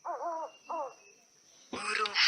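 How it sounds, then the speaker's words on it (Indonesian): An owl hoots twice in close, clear succession, two wavering calls followed by a pause, then a burst of harsher noise at the end. "Burung hantu."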